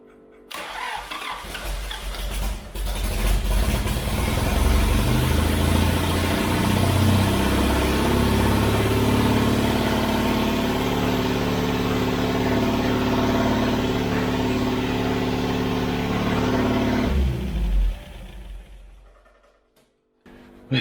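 An old Austin Healey engine cranks, fires and runs, close and loud, its rough idle rising and falling with revs for about fifteen seconds before it shuts off and fades to quiet.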